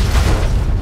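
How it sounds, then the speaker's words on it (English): A mini atomic explosion from a grenade rifle shot in Fallout: New Vegas, a single loud, dense low boom that rumbles on without a break for just under a second. "So now it's lit on fire and it's gonna create a little mini atomic explosion."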